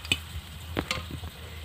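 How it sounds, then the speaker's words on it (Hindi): Papad frying in hot oil for a Bengali papad dalna dish: short crackling sizzle bursts and a few sharp pops, close and moderately loud, spaced irregularly over a brief stretch. "एबार पापड़गुलो आमी भेजे नेब"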